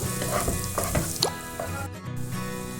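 Onion, ginger and garlic sautéing in a pan for a pea and paneer gravy, a continuous close sizzle with several quick stirring scrapes and spatters, no talking.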